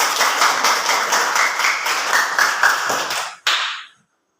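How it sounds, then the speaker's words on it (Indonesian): Classmates in a school lesson clap together in a short, rhythmic burst of close, loud hand claps that stops abruptly, ending with a final clap. "Tepuk tangan."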